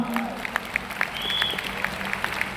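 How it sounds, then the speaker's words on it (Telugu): Scattered hand claps from an audience at a company meeting, a loose ragged applause with sparse sharp claps over a low hum of the room, moderately close and brief. "అలాగే ఒక్కసారి మన అప్లైన్స్ అందరికీ క్లాప్స్ ఇద్దామా?"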